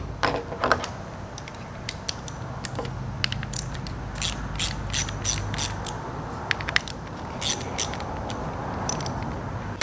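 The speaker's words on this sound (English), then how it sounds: "That was 7mm, or you can use a 5/16. We're going to take these two screws out." A ratchet fitted with a 7mm socket backs out carburetor screws on a Murray 22-inch push mower, giving close, loud bursts of rapid metallic clicking that stop and start.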